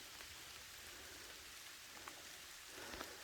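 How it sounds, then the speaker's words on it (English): Rain falling at Fisherman's Camp in San Mateo Canyon, a faint, steady wash of patter with occasional louder drops, no voices. "It's raining here at Fisherman's Camp."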